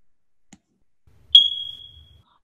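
A single sharp, high electronic chirp from a smoke detector sounds once, piercing and close, then trails off over under a second in an otherwise quiet room.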